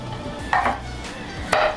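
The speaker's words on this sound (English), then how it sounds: "I have a whole head of garlic, and I'm just gonna chop these big" A knife chopping a whole head of garlic on a board, with two soft thuds about a second apart over low kitchen background noise.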